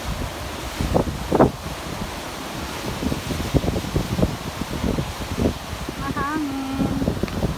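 Gusty wind buffets the microphone near the shore, with rough rumbling bursts and a faint distant whistle-like tone near the end.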